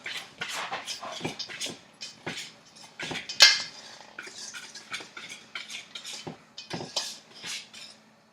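Cookie dough mixed in a bowl, with a run of close, uneven scrapes and clinks of a utensil against the bowl, one sharper knock in the middle, and no talk.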